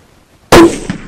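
A single loud, sharp rifle gunshot cracks at a shooting range after a silent lead-in, followed by a short decaying echo.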